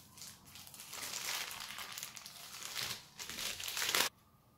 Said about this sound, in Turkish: Yufkaları açalım.